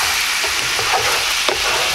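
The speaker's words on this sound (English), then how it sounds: "Now you'll just want to keep this cooking until it reduces down" Honey garlic sauce for pork chops simmers and reduces in a pan, giving a steady, close bubbling sizzle throughout with a few faint clicks of stirring and no talk.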